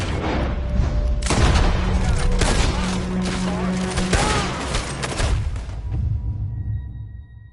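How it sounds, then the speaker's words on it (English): Dense gunfire in Red Dead Redemption 2, a volley of loud, close shots and booms rattling for several seconds before fading, with faint voices mixed in. "Looks like we're shooting our way out of here, fellers."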